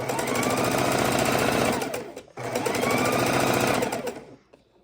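A single-speed sewing machine stitches a scrap-fabric quilt in two close, steady runs of fast mechanical chatter, with a brief pause between them before it winds down.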